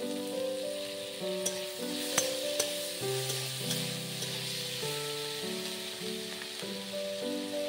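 Ginger garlic paste sizzling with chopped capsicum in a pan for chilli baby corn, a steady close frying hiss with occasional stirring clicks beneath a background music melody.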